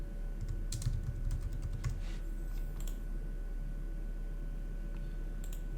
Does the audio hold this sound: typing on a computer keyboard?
yes